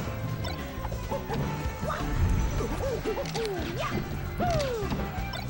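A forward smash lands in a Super Smash Bros. Melee match between Mario and Fox or Falco, heard as sharp game impact and crash effects. The hits are brief and scattered under continuous excited commentary from a voice.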